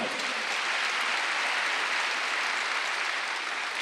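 Church congregation applauding at a Wednesday worship service, a steady dense wash of clapping held at even loudness throughout, with no voices on top.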